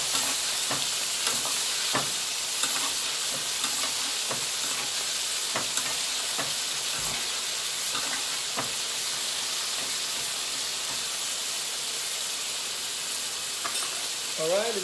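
A ribeye steak sizzles steadily in a hot pan while being basted with melted butter, garlic and thyme, a continuous close frying crackle with occasional louder pops and light clinks of a spoon.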